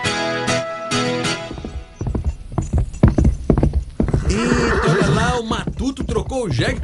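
A chestnut horse approaches with rhythmic clip-clopping hooves, close and clear, and a whinny near the end, heard alongside music and voices.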